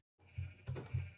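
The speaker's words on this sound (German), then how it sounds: "Und ein Schaf, das ist unser erstes Essen, das metzgen wir" A Minecraft sheep bleats in three short wavering calls, close and clear against silence.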